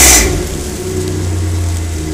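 1995 Pontiac Firebird with a 3.4L V6 and a Flowmaster exhaust idling in the cold, a deep, steady low rumble after a brief sharp sound at the start, close and alone.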